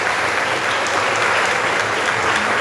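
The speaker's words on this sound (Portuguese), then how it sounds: "Dá uma salva de palmas para Jesus bem forte." A church congregation claps loudly and continuously in a dense, steady wave of applause.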